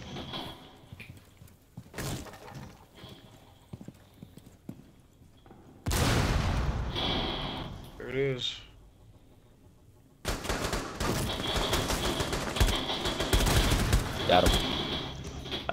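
Bursts of automatic gunfire in the video game Rainbow Six Siege, sharp clusters separated by quieter gaps, then heavy continuous firing near the end alongside in-game noises.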